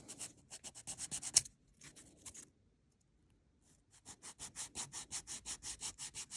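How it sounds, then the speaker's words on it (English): Fingernails are filed with a 100/180 grit nail file, giving rapid rhythmic close-up rasping strokes in two bursts separated by a brief pause. "All right, let's file."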